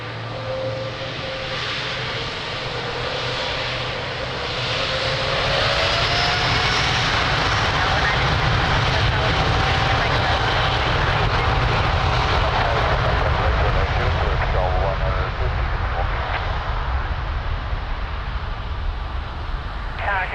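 A Delta heavy airliner taking off from runway 02 at Lisbon Airport, its jet engines a loud, steady roar that swells and holds throughout, with radio talk faintly underneath.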